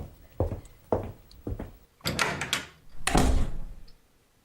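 A door in an old radio comedy setting is handled with a series of thunks and knocks, several short bumps followed by a louder, longer closing clatter and a final slam, heard alone without talk.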